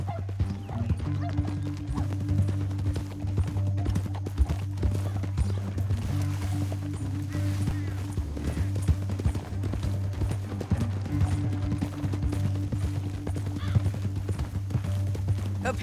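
Horses gallop across rough ground in Red Dead Redemption 2, a steady drumming clip-clop of hooves that runs throughout over a low rumbling music bed and ambient game sound.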